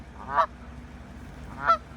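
Geese honking at the foot of Little Round Top on the Gettysburg Battlefield: two clear, nasal honks about a second apart, moderately close, over a quiet outdoor background.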